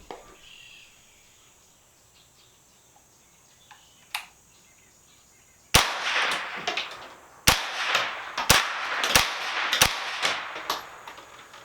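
Five sharp rifle shots from a Smith & Wesson 15-22 fired at a target at a range, cracking out at uneven intervals over a few seconds against a quiet outdoor backdrop of insects and birds.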